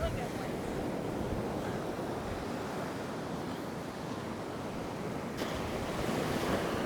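Heavy ocean surf rolls steadily onto a beach in the rough aftermath of Hurricane Idalia at South Beach, Marco Island, a continuous close wash of breaking waves with wind buffeting the microphone and no voices.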